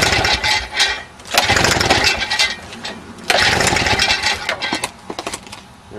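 A Victa Power Torque lawn mower that would not start sputters and revs in uneven bursts, its small engine catching and dying twice at close range with clanking between attempts.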